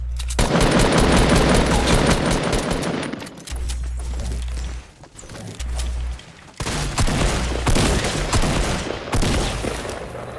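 Assault rifle gunfire in a Fortnite Battle Royale match, loud rapid automatic bursts with brief pauses between volleys and heavy low booms underneath, dense and close throughout.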